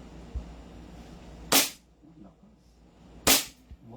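An SRC Hi-Capa gas airsoft pistol fires two sharp, loud shots about two seconds apart, outdoors over a low background murmur and faint distant voices.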